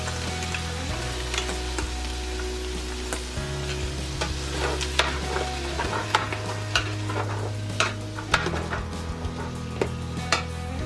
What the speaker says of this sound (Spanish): Se tiene que freír un poquito para que agarre sabor.